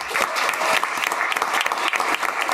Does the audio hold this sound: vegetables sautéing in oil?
no